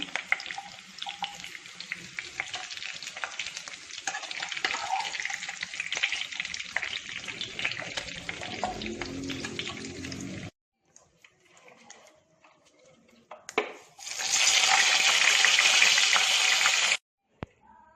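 Pieces of duck meat fry in hot coconut oil in a pan, a steady loud sizzle with stirring for about ten seconds, then a quiet pause before a burst of bright, hissing sizzle.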